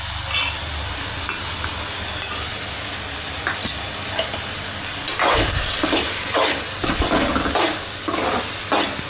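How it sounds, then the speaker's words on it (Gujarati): Bottle gourd halwa stirred with added ghee in a pan over low heat, giving a steady soft sizzle with repeated scraping strokes of the spoon growing more distinct in the second half, close and alone. "નિરાતે ધીમે તાપે હલાવવાનો છે"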